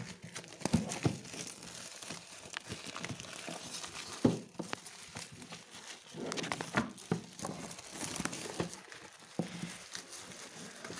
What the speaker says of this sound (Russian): Эффектно открываем нашу упаковочку.